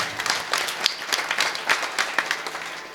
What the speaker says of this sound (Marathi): एकदा सर्वजण शिवप्रेमी भक्तांसाठी जोरदार अशा टाळ्या वाजवा